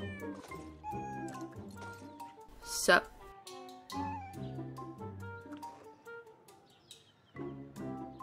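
A giant cat in a video game gives a loud meow that rises above background game music, while a person talks before and after it.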